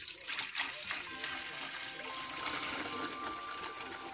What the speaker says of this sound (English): I'm gonna pour it out in this jug.